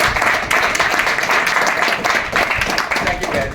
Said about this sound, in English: can we give our volunteers a warm round of applause?